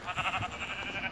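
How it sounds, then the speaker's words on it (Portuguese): A sheep bleats in a steady, wavering cry for about a second in a video game, close and fairly loud with a slightly warbling tone. "Ah, tem uma ovelha ali."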